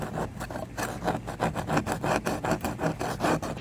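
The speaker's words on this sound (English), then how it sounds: "I'm just getting all this paint off" Old paint is scraped off a boat's hull surface in steady, rhythmic strokes, a close raspy scraping repeated about four times a second with no talking.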